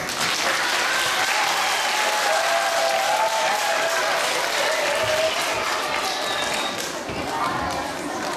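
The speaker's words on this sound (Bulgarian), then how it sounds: "Аплодисменти!" Sustained, dense applause from a large crowd fills the whole stretch, steady and loud without a break.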